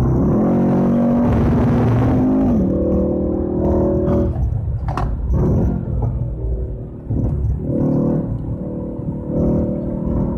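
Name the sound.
Mercedes E63 AMG car driving through a turn on F1 track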